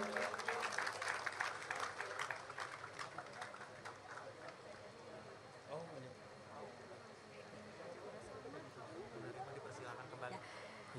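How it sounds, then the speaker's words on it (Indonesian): Crowd applause for the winners of a best traditional dress contest at an Independence Day ceremony in IKN, Indonesia: steady, dense clapping from a large outdoor gathering, fairly distant and soft, with a voice speaking over it. "Boleh tepuk tangan sekali lagi."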